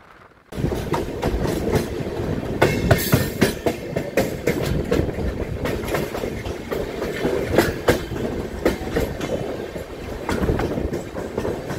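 The Godavari Express passenger train runs along the tracks from Visakhapatnam, heard from on board as a steady rumble with rhythmic clickety-clack of wheels over rail joints, loud and continuous after a brief quiet start.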